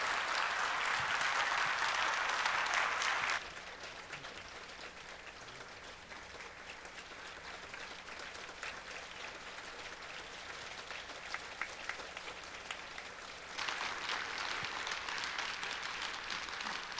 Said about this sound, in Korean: 우리 박수로 한번 환영해 주시기 바랍니다.